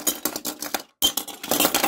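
Die-cast toy cars and trucks tipped out of a container in a loud, close clattering rush of metal on metal, in quick bursts with a brief pause midway.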